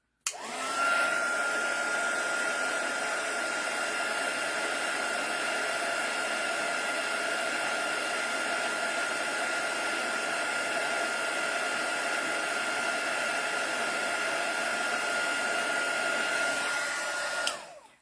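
A heat gun blows steadily for about seventeen seconds, a loud, even whooshing roar with a faint whine, melting embossing powder on a craft project, starting and cutting off abruptly.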